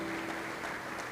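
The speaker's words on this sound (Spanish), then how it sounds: "A esas madres démosle un aplauso también" Steady applause from a church congregation honouring mothers during a sermon, a dense even wash of clapping held at moderate level throughout with no break.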